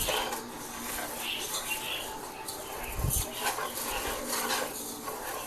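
Rice browning in a pot is stirred with a utensil, giving soft scraping and light clinks at irregular moments, fairly quiet over a steady background hiss.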